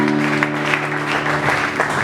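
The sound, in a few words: congregation applauding in church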